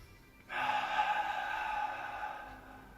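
A sustained breath drawn in during a Pilates exercise, a steady airy hiss lasting about two seconds, close and fairly soft, with no talking.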